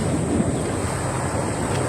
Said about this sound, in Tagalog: dito pa kami sa dagat.